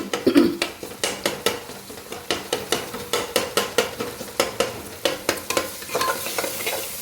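Spices with coriander-cumin powder and salt stirred together in a pan, a rapid run of loud, rhythmic spoon scrapes against metal over a low sizzle.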